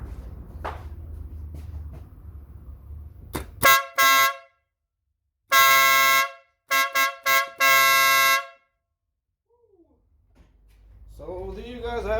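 A vehicle air horn wired through a relay blasts several times up close, loud tonal honks of varied length in bursts separated by silence, with some shuffling before and noise after.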